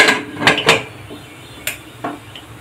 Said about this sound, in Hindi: कुकर का ढक्कन लगा लेंगे।